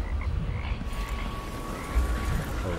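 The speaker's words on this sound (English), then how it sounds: "More frogs." Ambient frog croaking from Dishonored 2, a few low croaks rising out of a continuous marshy game ambience with no speech.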